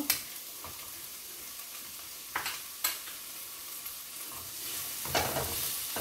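Finely chopped tomato fries in a pan with a steady sizzle while a spoon stirs and scrapes through it, giving several distinct clattering strokes over the hiss.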